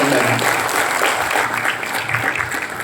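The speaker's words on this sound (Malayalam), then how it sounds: "അവർക്കൊരു വലിയ നന്ദി കയ്യടിയും നമ്മുടെ സൈഡിൽ" An audience bursts into sustained applause, loud and dense clapping from many hands that rolls on evenly for a few seconds, with some murmured voices mixed in.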